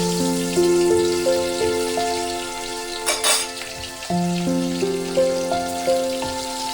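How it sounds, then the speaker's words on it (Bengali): Rohu fish pieces fry in hot oil for a hing-flavoured dish, giving a soft, steady sizzle beneath a stepped background melody, with a brief louder burst of crackle midway. "তেলটা গরম হয়ে গেছে, এবার আমি মাছগুলোকে"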